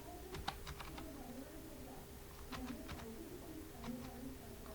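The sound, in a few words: typing on a computer keyboard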